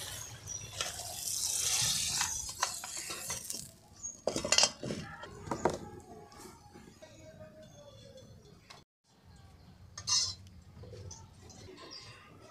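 A cooking pot of spinach and snail curry is lifted off a village stove, with clinks and knocks of metal cookware over a hissing background, then a brief quiet pause and a further clank.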